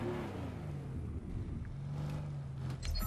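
A car drives around in the Fortnite video game, its engine a steady low rumble with a droning tone that holds throughout, rising briefly near the end, with no voices.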